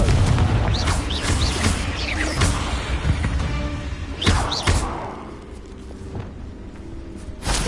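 Fiery blasting-curse explosions in a Harry Potter video game, a series of loud booming thuds and bursts over dense crackling battle noise, with a big blast near the middle.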